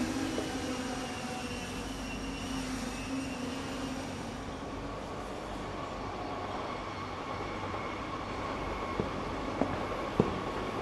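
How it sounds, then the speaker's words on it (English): A train rumbles steadily at a station in an audio drama sound effect, a continuous low mechanical roar with a few faint clanks near the end and no talk. "Train leaves in 2 minutes."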